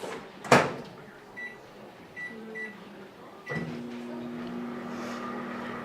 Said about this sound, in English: you can pop this right into the microwave for about 2 minutes